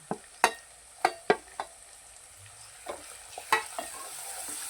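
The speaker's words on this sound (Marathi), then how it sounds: "तेल सुटेपर्यंत व्यवस्थित ह्याला पण फ्राय करून घेणार आहोत." Ground masala paste frying in oil for Kolhapuri mutton, a soft low sizzle punctuated by about eight distinct spatula scrapes and taps at uneven intervals, close but quiet.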